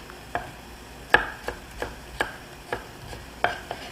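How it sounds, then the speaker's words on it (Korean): A knife chops through a peeled carrot on a cutting board, cutting slices and then julienne strips for a Japanese stir-fried udon exam dish. About nine distinct, moderately loud, evenly spaced board knocks, with no talking. "당근은 껍질 벗겨서 편을 먼저 썰고, 그리고 채를 썰게요."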